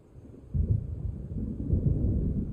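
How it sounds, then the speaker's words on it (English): Thunder from an approaching storm in Alan Wake Remastered, a deep, low rumble that swells suddenly and rolls on steadily with a faint hiss beneath. "It seems there's a storm coming."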